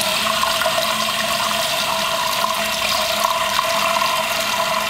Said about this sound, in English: I'm going to turn on the cold water.